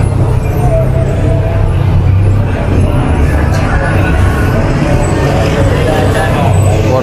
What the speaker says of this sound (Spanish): Mucha cola, mucho tráfico.